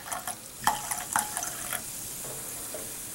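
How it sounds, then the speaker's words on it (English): Homemade mead poured through a filter gurgles and bubbles softly, with a few sharp splashes and drips early on settling into a quiet liquid trickle, alone with no voices. "It bubbles."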